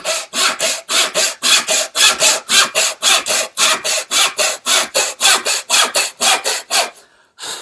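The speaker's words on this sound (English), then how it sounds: "Put my saw back in there, and then carry on cutting." A hand saw makes a cross cut through wood, loud and close, with about twenty steady back-and-forth rasping strokes in an even rhythm that stop near the end, with no talk.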